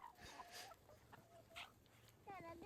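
Chickens clucking in short bursts with brief higher squawks and chirps at a farmyard, fairly close, over steady low background noise.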